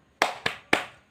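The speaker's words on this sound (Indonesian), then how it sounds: "yuk kita tepuk semangat sama-sama" Children in a classroom perform a 'tepuk semangat' cheer clap before a maths lesson, giving three sharp, close hand claps in a quick rhythm with a slightly longer gap before the last one.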